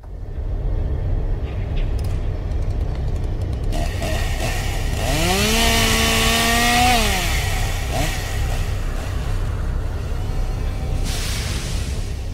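A loud chainsaw roars continuously at a haunted attraction, its engine revving up sharply in the middle before settling back to a steady drone.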